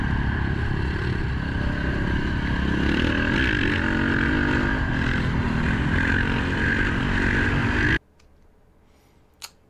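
Dirt bike engine revving hard and continuously during wheelies, loud and close, then cutting off abruptly near the end, leaving quiet background with one brief knock.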